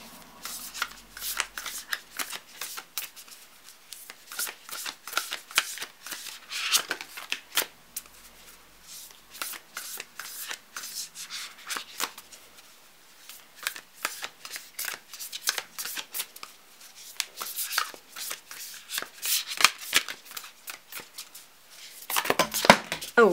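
Whispers of Love oracle cards being shuffled by hand, a steady run of crisp riffling and slapping card sounds that continues for over twenty seconds with brief pauses, close and fairly quiet.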